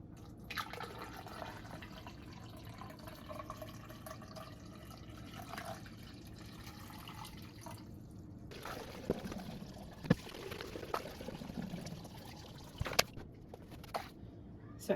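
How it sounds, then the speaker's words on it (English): Water poured into a funnel trickles and splashes down onto rocks inside a wicking garden bed, close and fairly quiet, with a few sharper drips and spills near the end over a low steady background. "now we're gonna go ahead and pour water into our funnel to see what happens"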